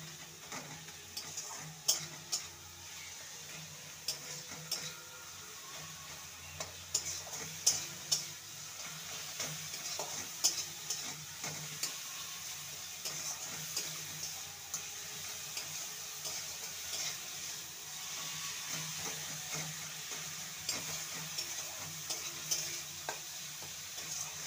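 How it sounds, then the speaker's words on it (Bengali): Spice masala with Kashmiri chili powder stir-fried in a pan, with a steady low sizzle and repeated scraping and clinking of a spatula against the pan, moderately close and without talk. "আর দেব সামান্য কাশ্মীরি লঙ্কার গুঁড়ো। ভালো করে সমস্ত মশলাকে কষিয়ে নেব।"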